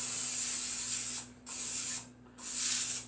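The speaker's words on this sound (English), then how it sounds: "Nothing fancy, just a butter spray." Three short bursts of butter cooking spray onto wax paper, each a steady aerosol hiss lasting about a second, separated by brief pauses under a faint low hum.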